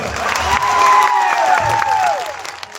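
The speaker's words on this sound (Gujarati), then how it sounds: "પોલીસ માટે એકવાર જોરદાર તાળીઓ પાડી લો" At a political rally in Kavant, a large crowd claps and cheers loudly for the police. The applause swells through the middle, with shouts and whistles mixed in, then eases slightly toward the end.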